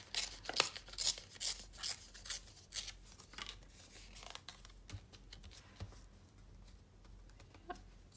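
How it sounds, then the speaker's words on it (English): Scrap paper is trimmed with scissors and torn by hand while making a sampler, giving a run of close, crisp snips and rustling rips that fade to quieter handling near the end. "I'm just gonna trim that down a bit and just tear"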